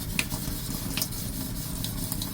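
A kitchen knife is sharpened in a few repeated scraping strokes, close and fairly loud over a rough, steady background.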